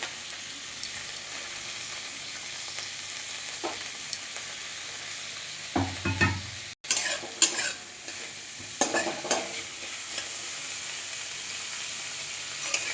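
Food frying and being stirred in a pan on a high flame before Maggi noodles go in, with soft sizzling under scattered scraping and stirring clatter, including a louder burst midway.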